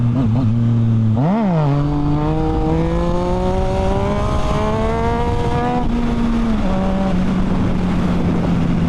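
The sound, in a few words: Yamaha FZ-09 motorcycle engine accelerating, shifting gears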